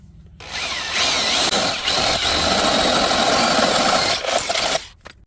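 A power drill bores holes into a Harbor Freight adjustable tow bar, a loud, sustained whining grind starting after a brief pause, with short dips in pitch before it stops near the end.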